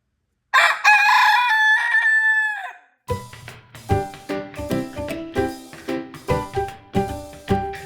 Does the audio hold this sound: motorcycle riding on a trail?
no